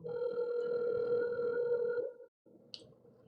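A telephone ringback tone plays during an outgoing call: one long, steady electronic ring lasting about two seconds, a brief silence, then the next ring starting, heard clearly with no talking.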